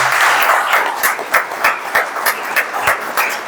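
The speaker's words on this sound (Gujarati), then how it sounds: "એને માટે ટ્રસ્ટી માટે જોરદાર તાળી થઈ ગઈ" An audience at a college annual prize distribution ceremony applauds the trustee, a dense burst of clapping that thins into scattered, uneven claps.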